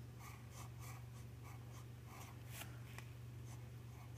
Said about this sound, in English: let's do some cursive writing. I'm just going to write at a normal pace